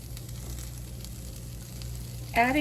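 Ground turkey and mushrooms sizzle steadily in a hot pan, a continuous frying hiss with a brief louder burst near the end, no talking.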